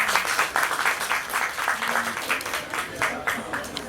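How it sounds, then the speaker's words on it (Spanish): A book fair audience in Medellín gives a novel presentation a moderately loud round of applause. Dense, continuous clapping fills the room, with a few voices talking underneath. "Un aplauso."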